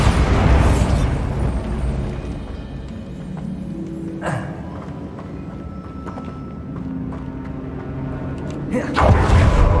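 Bombarda spell explosions in Hogwarts Legacy combat, loud booming blasts at the start, in the middle and near the end over a busy background, with a voice talking in between.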